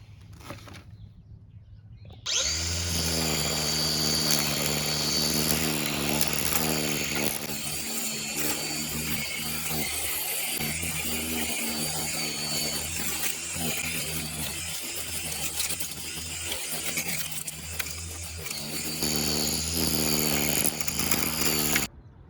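A Black and Decker 20V 2-in-1 cordless string trimmer starts up after a short quiet moment and then cuts weeds, its motor giving a loud, continuous high whine with a slightly wavering pitch that runs until the end.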